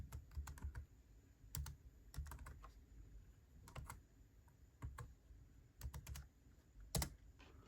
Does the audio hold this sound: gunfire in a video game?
no